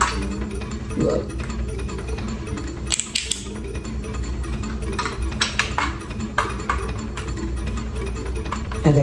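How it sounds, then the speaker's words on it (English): A part is screwed in during assembly of a flexible component, giving repeated small ratcheting clicks and mechanical ticks throughout, with a few sharper metallic snaps over a steady background hum. "And then screw that in right tight."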